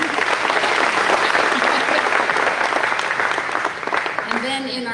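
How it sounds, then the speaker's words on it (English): Audience applauding a 4-H participant at a county awards program, steady dense clapping from a crowd that fills the room and then thins toward the end as a voice begins. "You can clap."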